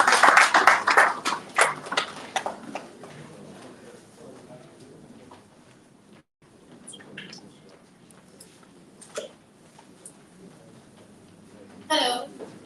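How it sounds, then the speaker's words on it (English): A round of applause welcoming a speaker at a Flutter Forward Extended tech event in Enugu, loud dense clapping that fades after a few seconds, followed by faint room noise and a few scattered taps. "please give a round of applause as we welcome Precious"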